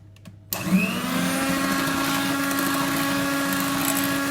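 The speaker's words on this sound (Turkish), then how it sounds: "Şekerli karışımla ve mikserle kısa bir süre homojen hale getirmek için çırpıyorum." An electric hand mixer starts abruptly and runs steadily at a high whirring pitch, whisking brownie batter with sugar, close and loud, with no talking.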